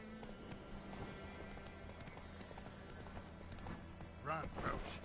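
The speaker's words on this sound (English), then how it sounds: "Run, Roach" The horse in The Witcher 3 gallops with steady, muffled hoof clip-clop, mixed with game sound and voices at a quiet level.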